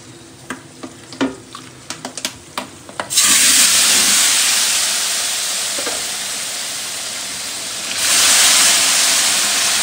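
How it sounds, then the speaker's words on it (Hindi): Water poured into browned, roasted semolina for sooji halva sets off a loud, sustained hiss and bubbling sizzle after a few light clinks and stirs, then swells again near the end. "हमारी सूजी जो है वो ब्राउन हो चुकी है, और अब हम इसके अंदर ये वाला पानी डालने लगे हैं"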